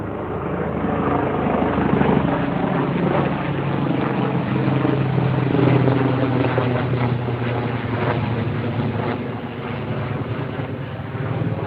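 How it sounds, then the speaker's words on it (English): A medical helicopter drones loudly and steadily overhead at sunrise, its rotor chop pulsing throughout and swelling slightly midway, with no voices. "Here comes a helicopter."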